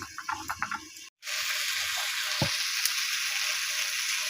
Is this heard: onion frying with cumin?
yes